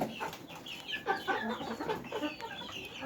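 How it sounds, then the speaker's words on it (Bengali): A chicken clucks close by in a series of soft, irregular calls over quiet farmyard background. "আর এইখানে যে একটা মুরগি দেখতে পাচ্ছেন"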